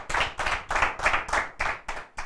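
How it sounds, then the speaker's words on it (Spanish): Applause for the guests of a debate program, heard as a few hands clapping in a rhythmic series of distinct, evenly spaced bursts at moderate level. "Le damos un aplauso a nuestros invitados que han estado"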